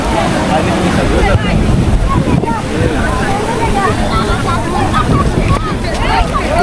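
Constant wind rushes and waves wash ashore at a Cox's Bazar sea beach, loud and close, with a blowing roar throughout and faint crowd babble mixed in.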